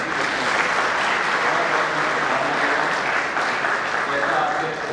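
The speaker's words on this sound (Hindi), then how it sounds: "एक बार जोरदार तालियों से आप सभी बच्चों को" Audience at a student award ceremony in Sehore applauding graduating students who placed first or second in their trades or the district, a dense, steady, loud wash of clapping that fills the whole stretch.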